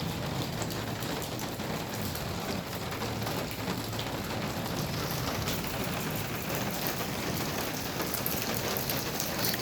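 Heavy rain pouring down in Quetta during a storm with strong winds and hail, a dense, steady hiss of drops drumming on surfaces, loud and continuous throughout with no voices.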